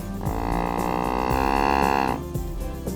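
A deer grunt call imitating an immature buck gives a single drawn-out, nasal bleating grunt that holds steady for about two seconds over low background rumble, close and fairly loud.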